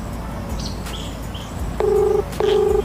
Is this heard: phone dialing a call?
yes